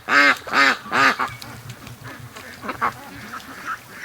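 Free-range ducks quacking close by, three loud rhythmic quacks up front followed by softer scattered quacks and shuffling from the flock.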